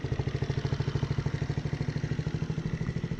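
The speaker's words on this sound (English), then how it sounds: "Start it up. Good idle." A Grom-clone small motorcycle engine idles steadily after setup, a close, even, rapid chugging putter with a light mechanical clatter, heard alone.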